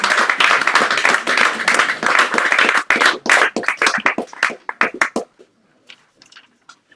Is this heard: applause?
yes